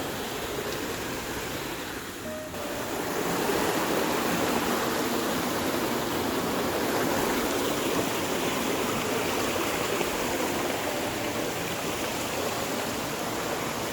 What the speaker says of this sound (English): The waterfall's around here.